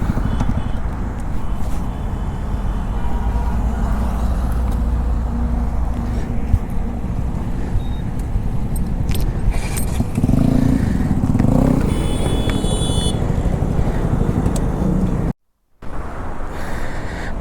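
Honda CBR650 superbike exhaust droning loudly and steadily in close range while riding with a group of bikers on a Sunday run, rising in a brief rev midway before a short dropout near the end.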